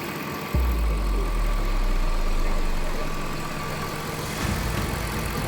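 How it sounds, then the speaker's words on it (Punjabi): A 2002 Jaguar 4.0-litre V8 petrol engine idles steadily up close, a low continuous rumble that settles in after a sharp start, with no voices over it. "2002 ਮਾਡਲ ਹੈ ਜੈਗਵਾਰ ਦੀ V8 ਪੈਟਰੋਲ"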